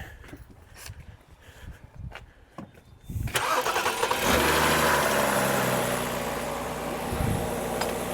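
A BMW N51/N52 engine cranks briefly after a starter replacement, then catches and roars to life, settling into a steady loud idle.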